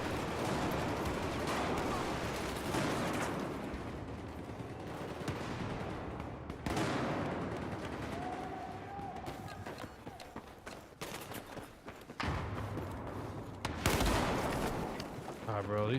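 Gunfire in Battlefield 4 on PS5 Pro, shotgun blasts mixed into dense overlapping shots and battle noise, loud and continuous with sharp bursts throughout.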